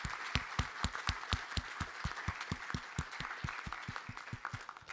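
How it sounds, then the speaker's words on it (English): Audience applause for conference panelists at a fintech event, a steady run of sharp, distinct claps from a modest crowd, moderately distant and sustained for several seconds. "give a big round of applause to our panelists"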